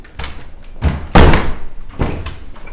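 Heavy double doors open with a few knocks and thumps of handle and wood, one loud thud in the middle, set in a vaulted entrance hall.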